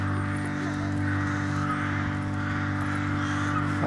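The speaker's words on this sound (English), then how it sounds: "Do those crows like ever shut up?" Crows caw repeatedly nearby, harsh calls rising over a steady low hum of background noise.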